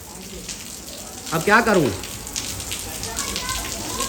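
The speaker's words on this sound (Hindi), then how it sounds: "कितनी बारिश है, कितनी बारिश है, तेज बारिश है।" Heavy rain falls around a house as a dense, steady hiss of drops. A person speaks briefly over the downpour partway through.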